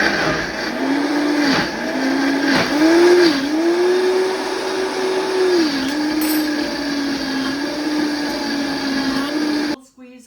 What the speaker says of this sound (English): put the blender right on there